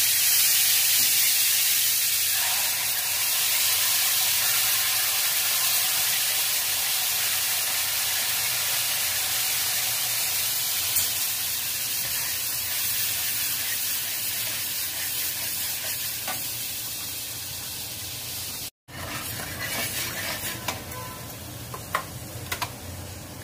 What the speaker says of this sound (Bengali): এবার যে আমি মশলাটা ম্যারিনেশন করে রেখেছিলাম, সেই মশলাটা আমি ওই গরম তেলের মধ্যে দিয়ে দেব।